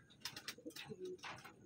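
A few soft, low coos from pigeons, close and quiet, in short bursts over a faint background.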